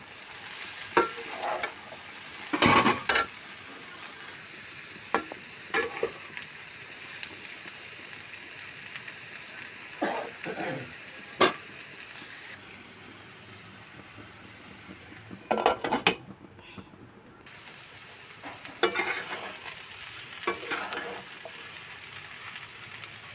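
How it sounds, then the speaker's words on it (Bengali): Potatoes frying in a pan, a steady close sizzle broken by repeated bursts of scraping and clattering as a spatula stirs them, with short pauses and a brief quieter patch near the middle. "এবার আমি এটা নেড়ে একটু নাড়াচাড়া করে আবার ঢাকা চাপা দিয়ে ভাজবো।"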